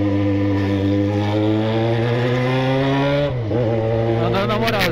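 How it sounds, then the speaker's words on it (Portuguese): Yamaha XJ6 motorcycle exhaust droning steadily while riding at night, a loud close engine note holding a constant pitch before dipping briefly and revving back up near the end. "mostrando o som do escapamento, mostrando um pouco como que é um motovlog noturno"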